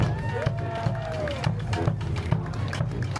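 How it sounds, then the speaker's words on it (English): An outdoor community crowd at an Audie Murphy Day gathering in Farmersville, Texas applauds a sponsor, a steady patter of clapping throughout with voices and a background tone underneath. "Let's give him a round of applause for his sponsorship"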